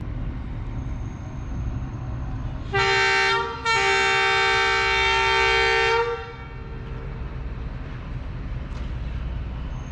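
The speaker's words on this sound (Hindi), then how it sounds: "ये डिपार्चर हॉर्न सुन लिया आपने ZCU20 6417 का" A loud train horn blasts twice from a ZCU20 locomotive departing in Pakistan, a short toot followed by a longer sustained honk, standing out against low rumbling background noise.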